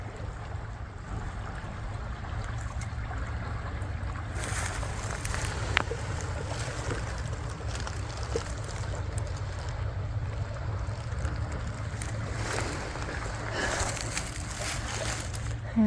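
Continuous rushing of flowing water, a steady low roar with occasional splashy surges, heard outdoors with light wind.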